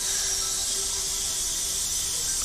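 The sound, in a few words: choir students hissing as a vocal warm-up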